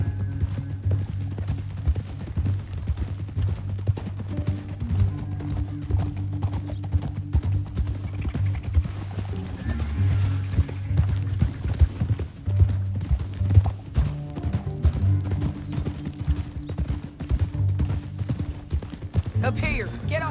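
Horse hooves clip-clop steadily at a trotting rhythm over a low rumbling bed in Red Dead Redemption 2, with people talking intermittently over them.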